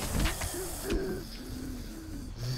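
Bird call from the survival video game 7 Days To Die: a low, cooing hoot repeats a few times at moderate volume over a steady game ambience.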